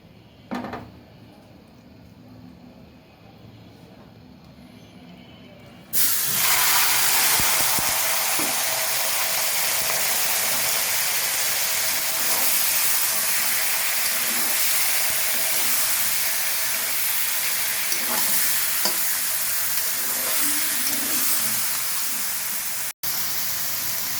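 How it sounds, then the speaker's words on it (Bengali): Chicken pieces hit hot oil that potatoes were just fried in, for a village-style chicken and potato curry. After a quiet start, a loud, steady, hissing sizzle sets in and continues close up, with no talk. "এবার সেম তেলে আমি মুরগির মাংস হালকা করে ভেজে নেব"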